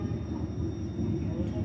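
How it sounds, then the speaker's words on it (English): A train approaches on Hanoi's narrow Train Street, a low rumble building in the distance with street noise around it and people talking nearby. "so we need to get ready for the train"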